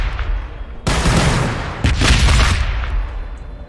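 Gunfire from Space Marine forces in the Warhammer 40k Battlesector strategy game: loud, close bursts of shooting with two heavy impacts about a second apart, each trailing into a roaring, crackling volley.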